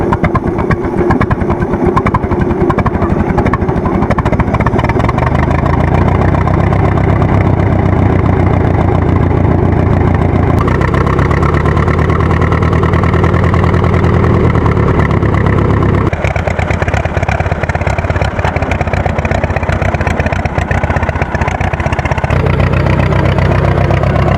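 A 1919 Fordson tractor's cast-iron 4.1-liter inline-4 engine, rated at 20 horsepower, runs loud and steady with a rough, continuous mechanical drone that shifts slightly in tone partway through. No one speaks.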